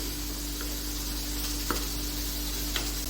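Whole cumin seeds sizzling in hot oil, a faint, steady crackle with a few soft pops, close and without talk.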